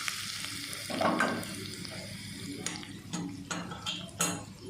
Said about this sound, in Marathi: हा जिरे मोहरीचा मी तडका दिलेला आहे